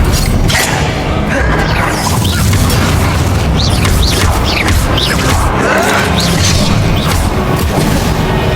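Loud fiery explosive spell blasts from Hogwarts Legacy during a chaotic fight, with booms, crashes and whooshing magic layered densely throughout, accompanied by battle effects and occasional shouted spell names.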